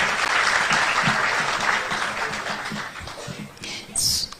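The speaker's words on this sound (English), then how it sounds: "Let's give another round of applause to our panelists." Brief burst of audience applause for panelists at a World MSME Day event in a Nairobi conference hall, dense clapping that is loud at first and then thins out, with a faint voice underneath.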